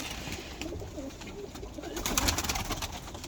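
Pigeons coo softly over a steady background hum, the low murmuring calls repeating throughout at moderate distance.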